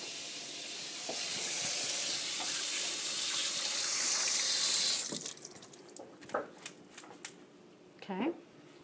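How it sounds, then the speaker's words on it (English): Tap water runs into a kitchen sink while hands are washed, a close, steady hiss for about five seconds that then cuts off, followed by scattered clinks and brief talk. "Let me wash my hands."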